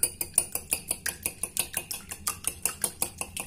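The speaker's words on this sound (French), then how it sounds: "Vous mélangez." An egg, milk and oil mixture whisked briskly with a utensil against a bowl, a steady run of about twenty sharp clinking strokes in even rhythm, close and alone.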